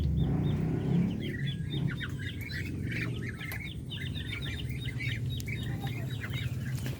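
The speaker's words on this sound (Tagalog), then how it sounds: "may mga bagong pisa tayo dito ngayon. Ayaw magpa-istorbo ng inahin." Darag native chickens chatter in a pen, with a broody hen clucking low and newly hatched chicks cheeping in rapid high peeps that run continuously over a low background rumble, close and moderately loud.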